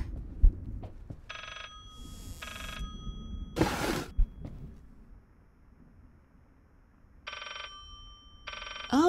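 In the horror video game Layers of Fear, a book rings like an old telephone in repeated short bursts of bell ringing, separated by quiet gaps and a whooshing swell, set against a dim low rumble.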